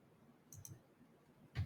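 A few faint, sharp computer mouse clicks sound in a quiet room, two close together and then a louder one a moment later.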